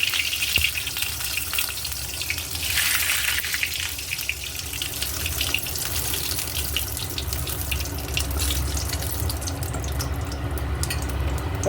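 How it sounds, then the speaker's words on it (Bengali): Cumin seeds and bay leaf tempering in hot oil, a dense, steady close sizzle that rolls on without pause, with faint crackles and scrapes near the end. "এবার তেলে আমি একটু জিরে আর তেজপাতা ফোড়ন দিলাম"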